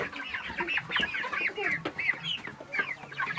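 Chickens cluck steadily and close by in a busy run of overlapping calls, with a child playing among them in a backyard.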